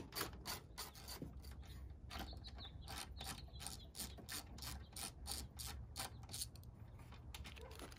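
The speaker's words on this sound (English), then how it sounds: "the first step is to remove this rear fender bolt on each side" Ratchet with a 10 mm socket turning a rear fender bolt on a Jeep: a fast, even run of sharp pawl clicks, close and alone, continuing for the whole stretch.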